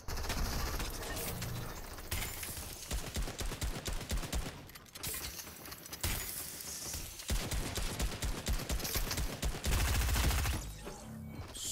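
Rapid bursts of video game gunfire in Fortnite, dense rattling volleys in several long stretches separated by brief pauses, loud and continuous with no talking.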